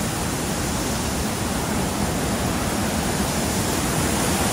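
A cold river on the Milford Track rushes loudly and continuously nearby, a dense, unbroken roar of flowing water with no talking.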